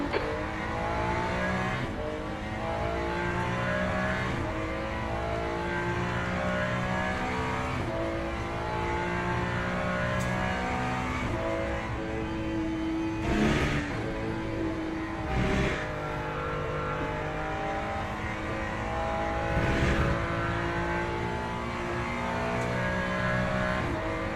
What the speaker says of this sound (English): Okay, the third place car is coming up behind me.